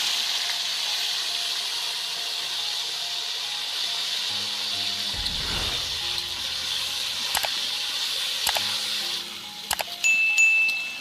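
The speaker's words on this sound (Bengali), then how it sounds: "মাছের তেলে আমি ভেন্ডিগুলো ভেজে নেব" Okra frying in leftover fish oil in a pan, a steady bright sizzle and hiss throughout, with a few sharp crackles and pops toward the end.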